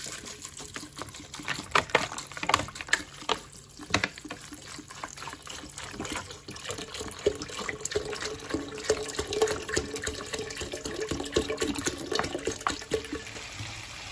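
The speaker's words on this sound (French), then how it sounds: "je vais rajouter 2 litres d'eau pour ces 3 verres des arachides" Two litres of water pour onto washed peanuts in a continuous splashing, gurgling stream that runs for over ten seconds, close and fairly loud with no voices.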